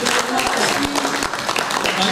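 A crowd at a radio summit gathering claps together in a dense, steady burst of applause, with a voice speaking over it.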